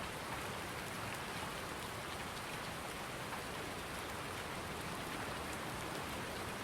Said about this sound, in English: Head back in the house out of the rain.